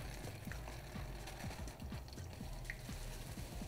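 Water pours and trickles steadily while desalted cod is split and rinsed in a kitchen, a continuous close splashing flow with no voices.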